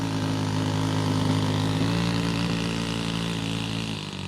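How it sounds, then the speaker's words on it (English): Four-stroke supercharged, fuel-injected nitro engine on a Sig Kadet Senior model airplane, a steady buzzing drone with a rich harmonic tone, held at constant loud level for the whole stretch. "4-stroke nitro. You saw in the owner's manual supercharged, fuel injected,"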